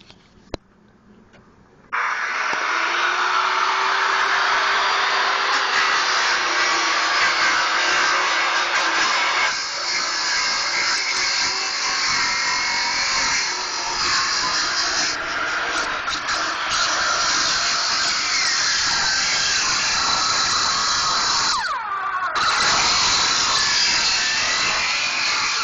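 A power tool cuts the copper tubing off an air conditioner for scrap, starting after a brief pause and then grinding loud and steady for over twenty seconds, its pitch shifting as the blade works through the metal.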